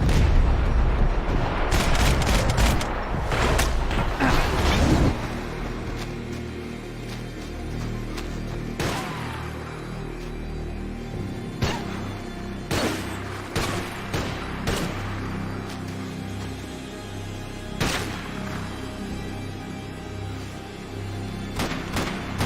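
Video game battle gunfire near a tomb: repeated gunshots and heavy booming bursts, dense and loud early on, then scattered shots over a low rumbling battle din.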